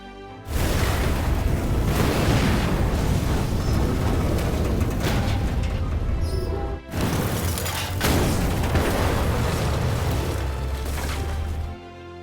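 A bomb goes off in the Korean action film Quick, a massive roaring blast with rumbling debris that fills the scene, breaks off briefly, then surges back loud before cutting out.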